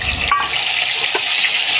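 Mustard and poppy seed paste with turmeric sizzling in a pan as it is stirred, a steady close fry with a couple of scraping strokes of the spoon.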